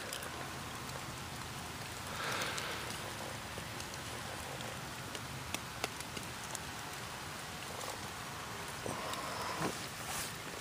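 Steady rain falls outside at an overnight camp, a dense, even hiss with scattered drips and taps throughout and no voices.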